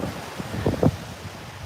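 Wind buffets the microphone at the water's edge at sunset, a continuous low rumbling gust with a few stronger puffs and no voices.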